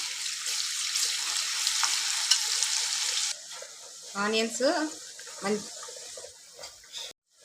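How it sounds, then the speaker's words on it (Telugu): Ginger paste and turmeric frying in oil in a pan, a steady close sizzle at first, then quieter frying under brief stirring and scraping, with a voice speaking in the background. "ఇవి ఆయిల్లో కొంచెం ఫ్రై చేసుకుందాం"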